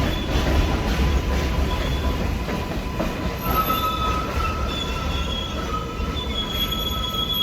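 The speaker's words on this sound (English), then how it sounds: "Sorry, the train is coming," A train rolls past nearby with high, sustained wheel squeal over a steady roar and rumble of the cars, loud and continuous throughout with no talking.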